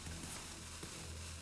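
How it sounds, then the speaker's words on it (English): A frying-style sizzle sound effect from the Hearthstone video game, a steady crackling hiss that fills the short moment at an even, moderate level with no voices. "Hear that sizzle?"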